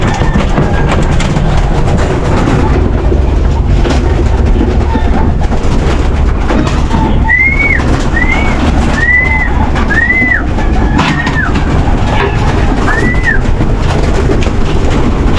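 Pigeons coo in a series of soft, rising-falling calls over steady outdoor background noise at a backyard farm, several birds close by.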